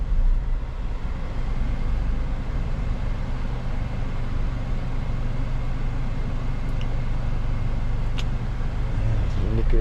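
A 2007 Toyota Innova 2.0 G automatic on a test drive gives a steady interior engine drone and road rumble throughout, with a person talking over it.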